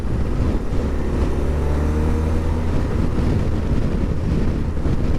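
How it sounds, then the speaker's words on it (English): BMW R1200RT boxer twin pulling in third gear, a low steady bubbling engine rumble heavily mixed with loud wind buffeting on the microphone throughout. "I like to keep these boxer engines bubbling away."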